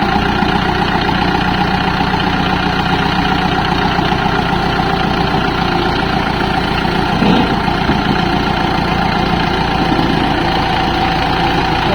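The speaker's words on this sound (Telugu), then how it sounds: "బండి అయితే స్టార్ట్ చేశారు" A John Deere tractor engine running loud and close while the tractor creeps slowly forward, a steady, unbroken low rumble with a constant throb and no voices.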